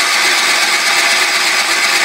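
Engine of a 1974 Sears Suburban SS16 garden tractor runs with the throttle raised, a steady loud, close roar without breaks or talk.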